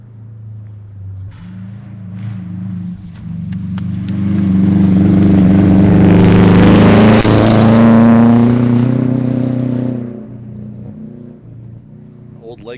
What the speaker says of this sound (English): Sounds like another Subaru.